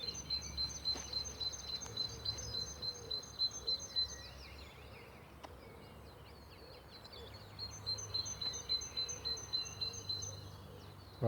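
Park birdsong in repeated high chirping phrases, starting and stopping in bursts, heard at a moderate distance over low outdoor rumble.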